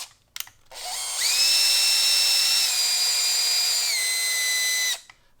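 A power tool drives a tap through a lung model part with a sustained high whine lasting about four seconds, dipping slightly in pitch partway, preceded by a few small clicks and ending abruptly.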